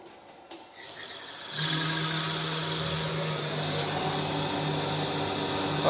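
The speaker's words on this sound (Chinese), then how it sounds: "清完零以后，拧到退出，然后直接摁这个启动键，就可以启动了。" An STL-5025 wood CNC lathe switches on after a quiet moment and settles into a loud, steady mechanical whir and hum that runs without pause to the end.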